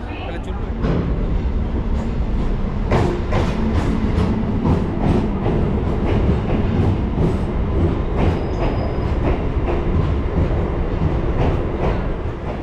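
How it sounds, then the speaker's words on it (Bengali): An Adra–Barabhum MEMU train on the South Eastern Railway pulls into Adra station with a loud, steady rolling rumble and rhythmic wheel clatter. Voices can be heard over it. "তিনটে বিয়াল্লিশে ট্রেন এসে পৌঁছালো আদ্রায়"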